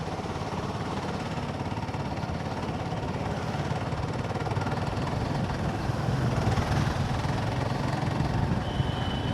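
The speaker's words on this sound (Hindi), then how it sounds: "ये देख लो जैसे बाइक ऐसे ग्लाइड करते हुए निकलती है जहाँ से जाती है" A motorcycle cruising along a road, heard from on board as a steady, fairly loud rumble of engine and wind that runs unbroken for the whole stretch, with no talking.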